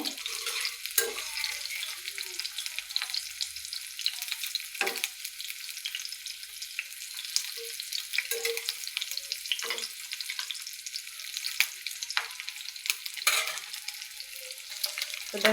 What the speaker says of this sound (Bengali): একটু লাল লাল করে ভেজে নিব তো দেখো